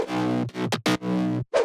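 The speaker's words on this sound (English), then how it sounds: "Mid bass with effect." Synthesized future house mid bass with distortion and compression, loud and gritty, in a rhythmic pattern of sustained notes with short breaks between them.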